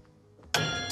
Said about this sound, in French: Si le battant, au moment où on enfonce la touche, est trop près de la cloche, ça donne ça.